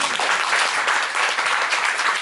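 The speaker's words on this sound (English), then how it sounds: "Everybody clap for him." Church audience at a Christmas service applauds a young singer with dense, steady clapping from many hands, sustained and moderately loud for a couple of seconds.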